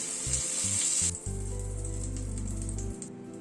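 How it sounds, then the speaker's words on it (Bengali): Oil sizzles steadily in a pan, with a few short bursts at first, then a loud continuous frying hiss. "পটলটাকে 3-4 মিনিট সময় ধরে লাল করে ভেজে নিলাম।"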